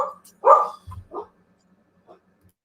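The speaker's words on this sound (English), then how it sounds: "that was my dog" A pet dog barking indoors, a couple of sharp barks followed by shorter yips and a faint whimper, close and loud against an otherwise quiet room.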